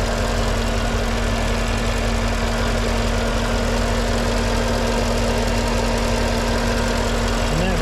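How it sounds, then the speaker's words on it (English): A 2015 Porsche Panamera GTS V8 idles steadily at close range, a smooth, continuous low engine hum with faint mechanical ticking and no voices over it. "that V8 is sounding as smooth as could be"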